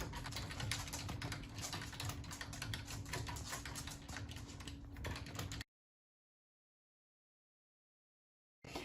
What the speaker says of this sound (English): so when you're ready, you just click or tap here or start typing